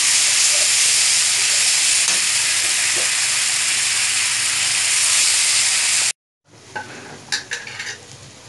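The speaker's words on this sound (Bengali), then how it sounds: "এখন আমি এর মধ্যে 1 টেবিল চামচ রসুন বাটা দিয়ে দেবো।" Garlic paste hits hot oil with browned onions and bursts into a loud, steady sizzle lasting about six seconds. The sizzle stops sharply, and a few light clinks of a spoon against the pan follow.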